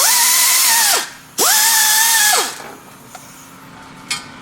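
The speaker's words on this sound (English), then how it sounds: "That's the only one we could reach with an air tool" An air tool spins a header nut off a Mercedes C63 AMG in two loud, close bursts of about a second each, then stops, leaving quiet workshop background with a couple of faint clicks.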